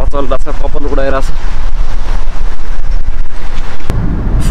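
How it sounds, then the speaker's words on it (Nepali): Strong wind on a cold day in Iraq buffets the microphone with loud, low, rumbling gusts that run the whole way through, while a voice speaks briefly at the start. "आठ जाडो छ आज, हावा चल्दा छ, कपाल उडाइरहेछ।"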